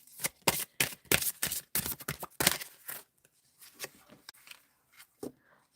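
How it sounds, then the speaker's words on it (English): Cards are shuffled in a rapid series of loud, crisp riffling bursts, followed by softer, scattered card taps and handling noises close by. "And give it a little shuffle."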